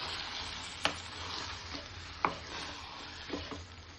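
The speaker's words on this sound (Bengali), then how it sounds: "আর দেবো অল্প কসুরি মেথি, দিয়ে আবারও ভালো করে নেড়ে চেড়ে দিচ্ছি।" A spoon stirring mushroom masala with kasuri methi in a frying pan, soft scraping over a quiet sizzle with a few sharp clinks of utensil against the pan.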